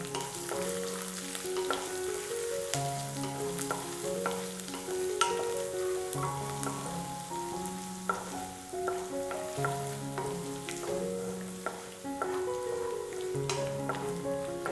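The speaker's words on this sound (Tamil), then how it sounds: "இஞ்சி, கொஞ்சோண்டு சீரகம் இதை போட்டு பிரட்டிக்கங்க கொஞ்ச நேரம்" Ginger and cumin stir-fry in a pan, crackling and sizzling steadily up close, with the scrape and clink of a spoon stirring over the fry.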